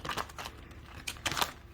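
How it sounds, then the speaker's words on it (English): Oracle cards are shuffled by hand, giving faint, brief papery riffles and soft crinkling clicks in a few quick bursts, with no talking. "I can't even shuffle today."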